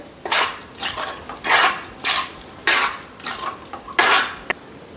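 Sukhadi mixture being stirred in a pan, giving a series of scraping, clinking strokes against the metal at an uneven rhythm, close and fairly loud with no talk.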